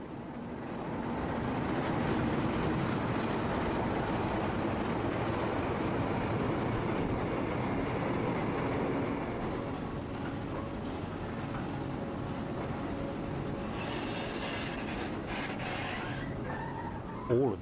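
A Class 37 diesel locomotive passes with a steady loud rumble and rolling rail noise that continues for the whole stretch, later joined by brighter clattering and squeal as the wagons go by.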